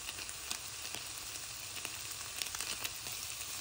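Cooked pork in a pan, its broth boiling away for adobo verde with purslane, sizzles in a soft, even crackle with scattered small pops, steady and close throughout.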